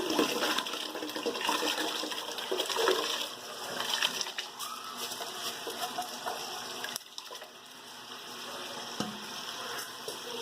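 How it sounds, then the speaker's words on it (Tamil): Rice poured into boiling water in a pressure cooker for chicken biryani, a soft watery rush and bubbling hiss, close and fairly quiet, easing off partway through. "இப்போ அரிசி சேர்த்தாச்சு."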